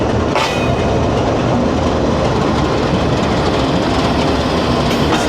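The 46 Down passenger train pulls into a station with a loud, continuous rail rumble and clatter close by, no voices over it.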